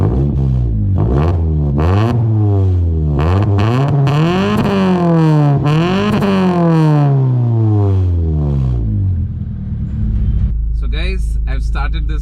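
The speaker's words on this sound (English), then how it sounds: "I've started this car and I can hear the rumble" Modified old Hyundai sedan being driven on back roads, engine rising and falling through repeated revs and gear changes in a loud, continuous rumble, settling to idle at the end.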